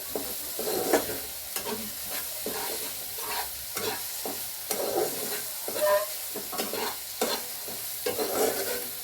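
Cauliflower korma sizzling in a pan as it is stirred and sautéed, with repeated close scraping strokes over a steady, moderate frying hiss.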